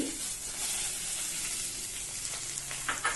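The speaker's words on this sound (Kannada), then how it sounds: "ಕ್ಯಾರೆಟ್ ಹಾಕಿದ ನಂತರ ಒಂದು ಮೂರ್ನಾಲ್ಕು ನಿಮಿಷ ಚೆನ್ನಾಗಿ ಇದನ್ನ ಫ್ರೈ ಮಾಡ್ಕೊಳ್ಳಿ" Grated carrot fries in hot tempering oil for a carrot chutney, giving a soft, steady sizzle with a faint crackle that continues evenly throughout, quiet and close, with light stirring near the end.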